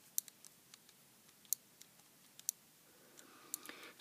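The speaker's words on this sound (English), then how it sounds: "you can tell when you get to the end of these because they click" A potentiometer knob on a mains power controller clicking at the end of its travel, several small sharp ticks scattered over a quiet background.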